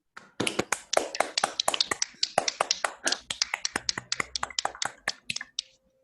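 An online audience unmutes to applaud after an academic talk, producing a run of crisp, separate claps from a few people in quick, uneven succession that thins out and stops.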